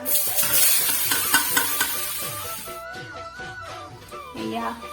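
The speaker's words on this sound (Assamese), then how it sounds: "এতিয়া নাৰিকলটো ৰুকা হৈ গ'ল এতিয়া অলপ ভাজি লওঁ" Grated coconut fries in a pan while a utensil stirs and scrapes it in quick, repeated strokes. The sizzle is loud at first and then eases slightly, heard up close with no talking.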